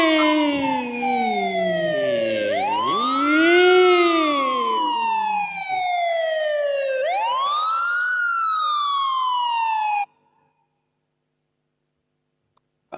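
A loud, close ambulance siren wails in rising and falling sweeps, sounding alone without talk, then cuts off abruptly into silence.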